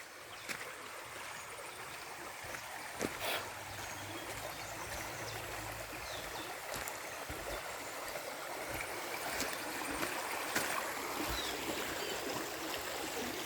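Steady rushing and trickling of a flowing forest stream in the Girnar jungle near Junagadh, close and continuous, with a few sharp knocks and splashes.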